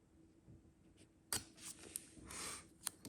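Washi tape ripped off its roll in short, quiet tearing rasps, a few brief crackling pulls against a near-silent room.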